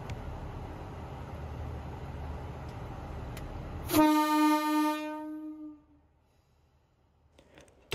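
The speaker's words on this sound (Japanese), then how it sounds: "とてもね、大きい警笛とともに列車名古屋方面へと回送されていきました" A loud, sustained horn from a KiHa 85 series diesel train blasts for about two seconds over rumbling noise as it departs toward Nagoya, then fades into near silence.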